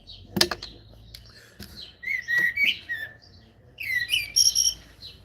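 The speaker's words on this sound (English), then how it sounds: "Oh, blackbird is singing" A blackbird sings outdoors in a few short, fluting phrases, fairly clear over faint background noise, with a soft sharp note near the start.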